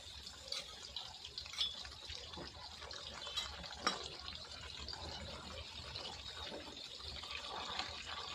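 Salty water poured into hot oil frying Kerala-style banana chips, a steady hissing, sputtering rush that runs throughout with a few sharper crackles, no voices.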